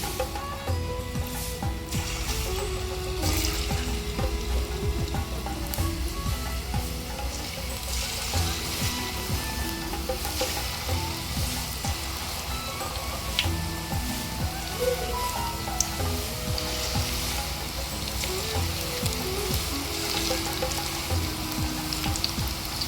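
Small drops of wheat bonda batter fry in hot oil with a continuous crackling sizzle and bubbling, steady and close for the whole stretch, with no talk over it.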